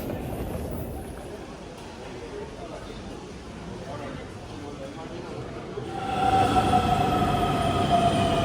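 A high-speed airport train in Copenhagen, a steady rumbling roll of carriages that swells louder toward the end with a rising whine of wheels and motors.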